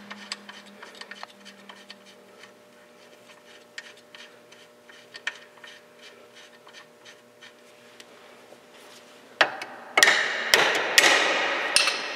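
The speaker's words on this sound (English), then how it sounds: "I'm gonna give it a couple of taps with the hammer" A hammer taps a nut on a car's lower control arm, light, sharp metallic taps repeating irregularly at close range, then several louder, heavier clanks striking near the end.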